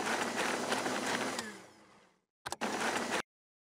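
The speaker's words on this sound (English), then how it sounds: "Help them to make it by holding down the big red button on the blender." A blender whirs loudly and steadily in a Peppa Pig video game, fading out, then a second short burst of blending starts and stops abruptly.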